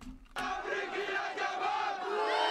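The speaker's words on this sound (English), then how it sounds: "those boos don't hurt so much" An outraged cartoon crowd jeers and boos from a Family Guy scene. It breaks in abruptly after a short silence, then holds as a dense, loud wall of massed voices that swells slightly toward the end.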